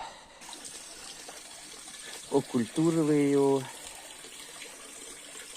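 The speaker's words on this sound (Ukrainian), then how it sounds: "Оце водичка тече." Water runs steadily from a stone-lined iron spring in Skhidnytsia on a foggy April day, a continuous close rush that carries on beneath a brief spoken phrase.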